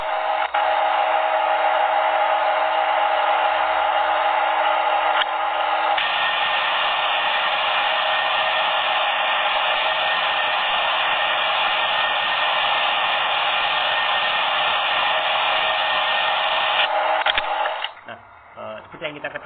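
Lathe Simulator app running a virtual lathe turned counterclockwise, giving a steady, loud electronic machine hum with a constant whine that holds for most of the stretch, then drops away near the end.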